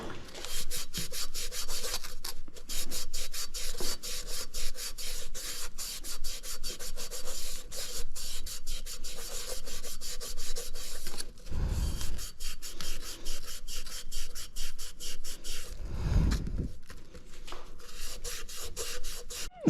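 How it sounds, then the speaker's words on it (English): A Scotch-Brite pad scrubs the bore of a Delphi 670/680 steering gearbox in steady, rapid back-and-forth rasping strokes, close and continuous for the whole stretch with a couple of brief heavier knocks, and no speech. "I may take that and clean that up with a Scotch-Brite."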